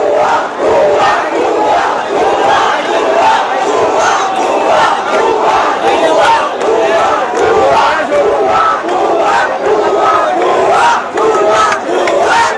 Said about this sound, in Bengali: শিক্ষার্থীরা অবস্থান নিয়ে ভুয়া ভুয়া স্লোগান দিচ্ছে